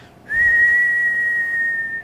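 A single clear, sustained whistled note held steadily for almost two seconds, close and fairly loud, with no talking.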